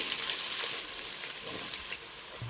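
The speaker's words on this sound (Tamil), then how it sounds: "கடுகு, சீரகம், பச்சை மிளகாய், நல்லா பொரிஞ்சதுக்கப்புறம் வெங்காயம்" Chopped onions fry in hot oil with mustard seeds, cumin, green chili, cloves, cinnamon and a bay leaf for a mutton gravy, producing a close, steady, crackling sizzle.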